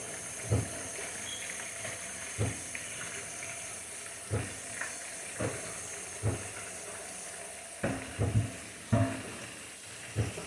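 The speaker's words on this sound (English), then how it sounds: "Chicken's over sizzling," Frying chicken wings sizzle with a steady hiss, broken by scattered soft knocks and clinks of utensils against a pan.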